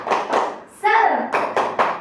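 A few quick, rhythmic group claps with children's voices chanting along in between, close and lively, during a classroom clapping cheer in an Indonesian school lesson.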